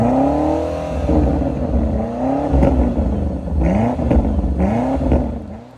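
A 4.4-liter twin-turbo V8 engine of a 2024 BMW X5 M Competition revs repeatedly, the pitch climbing and dropping in loud, throaty sweeps with no talking.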